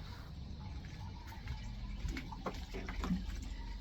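Running water trickles softly from an automatic cat water dispenser, a faint steady flow with light splashing and a few small drips, no talk over it.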